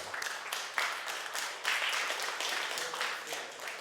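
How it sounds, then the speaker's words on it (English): Audience at an agile conference workshop hall breaks into dense, sustained applause, many hands clapping at once in a steady wash with a few louder bursts. "Applause to everyone."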